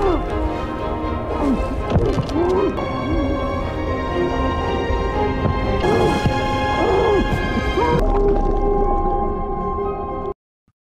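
Deep, moaning calls of a large whale swell and fall over a rumbling underwater wash in Antarctic waters, with a dramatic musical backdrop throughout before it cuts to silence.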